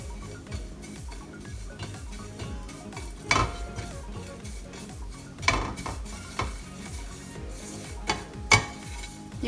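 Semolina roasting in hot ghee in a pan, stirred steadily with a spoon: a soft continuous sizzle under rhythmic scraping strokes, broken by a few louder clanks of the spoon against the pan, close up with no talk.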